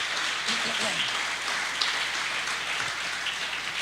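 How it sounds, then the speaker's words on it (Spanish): A church congregation at a Spanish-language service applauds. Even, sustained clapping fills the room for a few seconds with little change in loudness. "Dale un aplauso a ese David"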